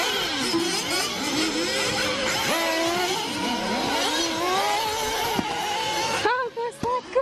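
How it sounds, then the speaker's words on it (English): Small go-karts racing at a karting show beside a swimming pool, buzzing engines revving and whining in overlapping pitch sweeps, steady and moderately close, with people talking over them. "Beside the swimming pool now we see there is a karting show with small cars."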